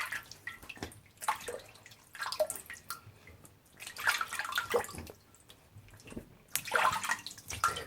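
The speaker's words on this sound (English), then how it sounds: "Run a nice cold water on my face, help close up the pores" Cold water from a tap runs and splashes in bursts as a face is rinsed, with drips and pauses between handfuls, close by and with no talking.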